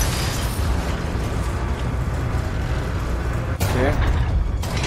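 An old cannon fires in Resident Evil 4 Remake, a loud, continuous roaring blast and rumble filling the whole stretch, with a sharper burst and rise partway through.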